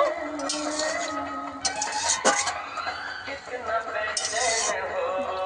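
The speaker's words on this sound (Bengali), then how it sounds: "চিংড়ি মাছটা একটু এইভাবে ঘেটে মিশিয়ে দেব।" Prawns stirred and mixed in a pan with a metal utensil, giving scraping, clinking strokes against the pan in irregular bursts, close and moderately loud, with no talk over them.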